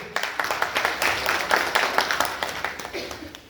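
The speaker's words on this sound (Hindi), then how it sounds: "जोरदार तालियां उसी भाई के लिए।" Audience at a company launch celebration for Yogvedant Wellness Pvt Ltd breaks into applause, a steady run of distinct claps that swells and then tapers over a few seconds.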